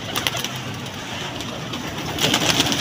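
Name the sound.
pigeons cooing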